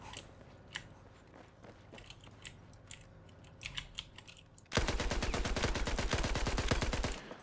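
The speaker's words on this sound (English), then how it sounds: "I can keep sustained fire here without there really being much recoil at all" An LMG fires in sustained fully automatic bursts in Battlefield 4, loud and rapid, following a quieter stretch of scattered distant shots and clicks.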